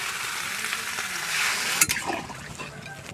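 Water is poured into a pan of frying home-raised country chicken curry with potatoes, bringing a close, crackling sizzle that swells, then a sharp clatter followed by bubbling hiss that gradually eases.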